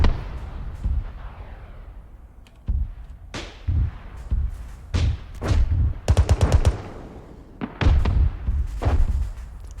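Heavy booming tank cannon blasts and explosions in the video game Arma 3 with the Blastcore mod burst out at irregular intervals, mixed with rapid bursts of gunfire, loud and close with brief quiet gaps.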